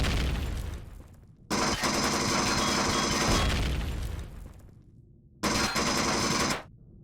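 Combat walker turrets in Empyrion Galactic Survival fire in two long, loud automatic bursts, rapid and relentless, separated by a short quieter pause with a distant rumble.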